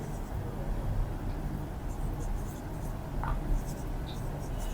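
A pen scratches across paper while a journal entry is written, faint continuous scribbling with small strokes, close by against a low background hum.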